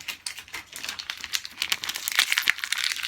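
Close, crinkly rustling and crackling of thin plastic film being peeled off an iPhone 11 screen, irregular bursts of crisp noise continuing for several seconds with no talking.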